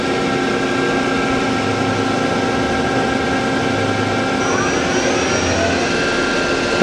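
A Doosan Lynx 300 CNC turning center with 3-inch bar capacity runs its spindle, giving a loud, steady whine with tones that step upward as the speed climbs partway through.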